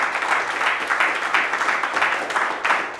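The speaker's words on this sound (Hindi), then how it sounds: "आइए जोरदार ताली बजा के उसको खुदावन यीशु मसीह खुल के तारीफ करें" A church congregation claps loudly in praise during a worship service, a dense, steady burst of many hands sustained throughout with slight swells, with no speech.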